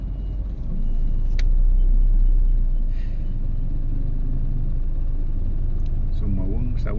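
Street traffic in rainy Manila near an LRT line, with a steady low rumble of cars, buses and trucks, a brief hiss like an air brake, and voices chatting over the noise close by.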